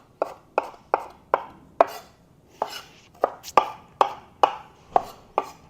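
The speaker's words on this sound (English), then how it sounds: "I'm just going to go ahead and chop down the cilantro" A knife chops fresh cilantro on a board for a homemade spicy Mexican salsa, with about a dozen crisp, evenly spaced chops close by and no talking.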